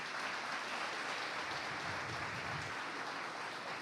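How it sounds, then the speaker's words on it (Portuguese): Church congregation applauding, a steady, fairly quiet patter of many hands clapping at once, heard without talk. "Vamos aplaudir o Senhor mais uma vez."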